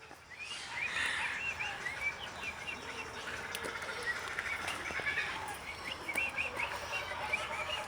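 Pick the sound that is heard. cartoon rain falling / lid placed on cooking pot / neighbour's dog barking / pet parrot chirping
pet parrot chirping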